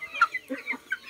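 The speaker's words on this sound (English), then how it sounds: "we are feeding the chickens right now." Chickens and a hen cluck in quick, close bursts at afternoon feeding time, several short calls within about a second, with no voices.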